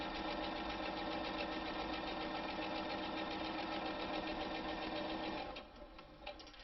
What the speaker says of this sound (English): Continue stitching all the way around, trailing on the curve very carefully.